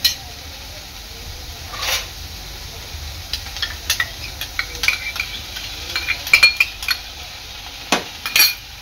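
Vegetables and pizza sauce are stirred in a hot pan, a soft sizzle under repeated scraping and clinks of the spoon against the pan, getting busier toward the end.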